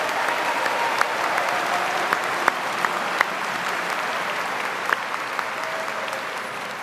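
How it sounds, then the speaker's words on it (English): An audience at a university convocation applauds the incoming freshman class, a broad, steady wash of clapping from a large hall with a few sharper claps standing out, continuing evenly throughout. "Let's give them all a round of applause."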